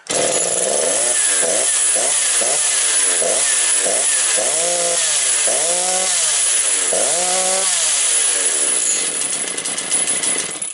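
A Motor Sich 475 engine is cranked and starts with a loud, rough, buzzing idle. It revs up and down in repeated surges, then its pitch drops and it dies away near the end.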